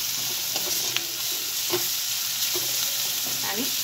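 Fried onion sizzles in a pan as turmeric and red chili powder are stirred through, a constant bright frying hiss with soft scraping strokes at intervals, close and steady, no one speaking.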